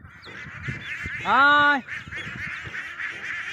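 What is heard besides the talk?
Khaki Campbell ducks calling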